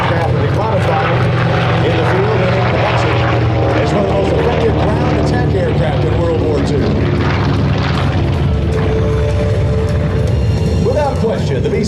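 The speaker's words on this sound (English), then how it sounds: "The B-25 served in every theater of operation during World War II." A B-25 medium bomber, a World War II propeller aircraft, flies overhead at an air expo at Andrews Air Force Base. Its engines give a loud, continuous droning roar with people talking underneath.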